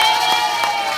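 Audience applauding an orchestra at a retirement-home Miss and Papy election event, steady dense clapping from a roomful of people, fairly loud and continuous.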